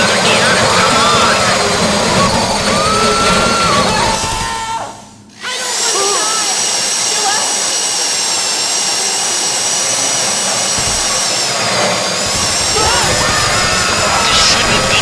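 A heist drill in GTA Online whines steadily and loudly at close range, a constant grinding mechanical drone that briefly cuts out midway before resuming, with voices speaking over it.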